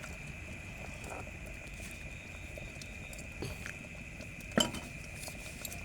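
Spoon stirring turmeric and cumin masala into dal water in a cooking pot, faint metallic scraping and a few soft clinks, one louder tap near the end, over quiet kitchen background.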